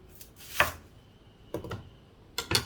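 A freshly sharpened kitchen knife slicing through a red onion on a board, giving three short crisp chopping cuts spaced apart, close and clear with quiet pauses between.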